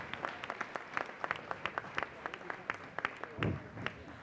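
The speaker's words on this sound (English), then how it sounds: "Let's just give another round of applause for our speakers today and all our guests." An audience at a ribbon-cutting ceremony applauds with steady, moderately distant clapping that holds evenly throughout, with one louder thump near the end.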